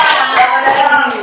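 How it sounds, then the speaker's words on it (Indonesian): Applause in an Indonesian classroom, a steady patter of many hands clapping together at close range throughout the short burst, with faint voices mixed underneath. "Tepuk tangan dulu untuk Ramadan."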